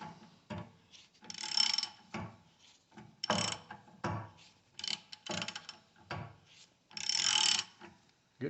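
A wrench turning on a fuel line or wheel bearing fitting of a 1985 BMW 633CSI, giving close, uneven bursts of ratcheting clicks separated by brief pauses.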